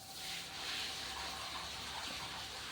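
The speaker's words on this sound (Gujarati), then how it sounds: "પાણી ચાલુ કર્યું છે. હવે વેડો ભરશે." Water runs from a tap into a cattle trough at a cow shelter, a steady, even gushing rush heard close and continuous without pause.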